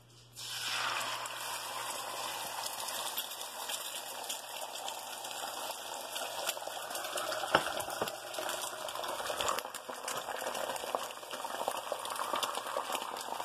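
Steady sizzling and crackling of an omelette egg mixture cooking in a hot pan, a continuous bubbling hiss with small pops, close and fairly loud throughout.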